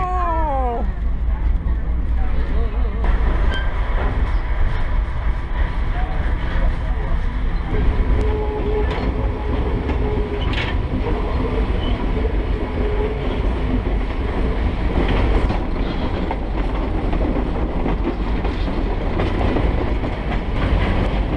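The California Western Skunk Train rolls along its railroad with a continuous rumble and wheel clatter, while a narrator talks over the moving cars.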